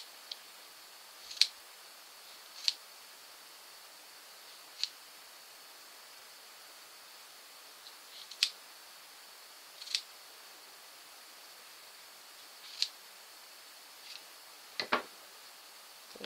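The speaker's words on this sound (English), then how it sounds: "Now we're gonna cut this strand of yarn open." Scissors snip through a strand of yarn while trimming a crocheted pom-pom for a toddler girl's hat, making about a dozen faint, sharp cuts spaced irregularly in a quiet room, ending with a brief rustle.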